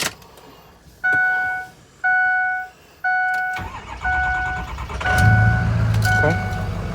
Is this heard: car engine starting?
yes